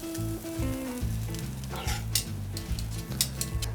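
A flat iron steak sizzles on a grill, a continuous crackling sizzle broken by rhythmic low thumps and clatter, with several bright spitting bursts toward the end.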